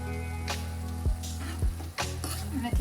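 Yogurt being stirred into sizzling Kathiyawadi dum aloo gravy in a pan, a steady hot sizzle with several sharp knocks and scrapes of the spoon against the pan, close and alone.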